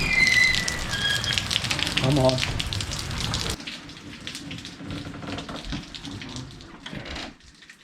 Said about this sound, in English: the weather outside, it's pouring hard